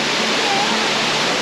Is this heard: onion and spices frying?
no